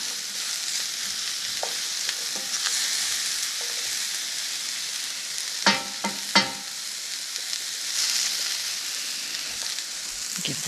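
Asparagus pasta primavera sizzling and frying steadily in a pan, with a few sharp clinks and scrapes of a utensil stirring it, fairly close and moderately loud throughout.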